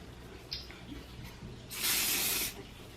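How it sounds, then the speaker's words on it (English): A spray bottle misting a wig gives one close, steady hiss lasting under a second, preceded by faint handling sounds in a quiet room. "but I sprayed it down"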